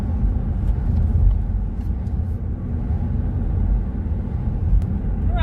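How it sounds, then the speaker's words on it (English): A car drives along the road, heard from inside as a steady, loud low rumble of engine and tyre noise that continues throughout with no one speaking. "so while I'm driving"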